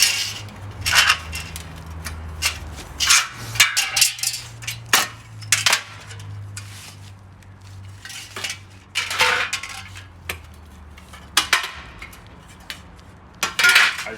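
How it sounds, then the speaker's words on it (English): An old window frame is broken up by hand for scrap, giving a close series of irregular sharp cracks, snaps and clattering knocks with quieter gaps between, no speech. "Then you just break up the rest of the frame."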